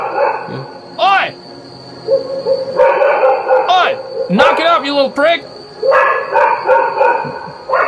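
Dogs bark repeatedly, mixed with shouting and talk, the barks close and loud in short bursts.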